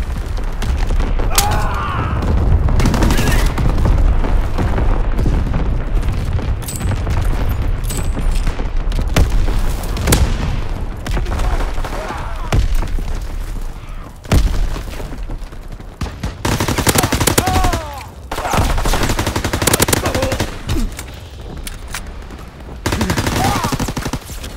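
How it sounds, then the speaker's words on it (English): Incoming enemy artillery and gunfire in a Call of Duty WWII battle, with a loud continuous fusillade of rapid shots and heavy booms, swelling in bursts and barely letting up, while voices shout faintly in between. "Incoming enemy artillery."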